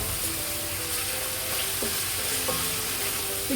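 Four cloves, two large cinnamon sticks and crushed jeera are stirred in very hot ghee for chicken tikka masala, producing a loud, continuous sizzle with stirring underneath and faint tonal sounds in the background.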